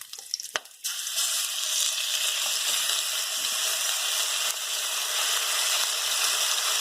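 Sliced pork drops into a hot wok for wet beef chow fun, a sharp splash and clatter followed by a loud, steady sizzle of frying that continues close up with no talk.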